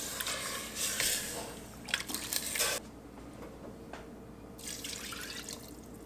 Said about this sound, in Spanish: agregué otro poquito de agua